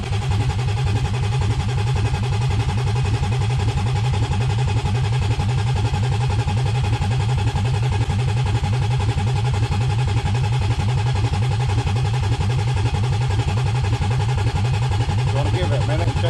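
A BMW E36 convertible with a swapped-in M50B28 engine idles loudly and steadily throughout, a continuous close rumble with no break.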